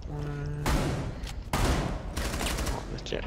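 Rapid gunfire bursts in Rainbow Six Siege, loud and close, with a sustained burst of shots followed by further heavy volleys and booming reports, mixed with game effects and a voice talking.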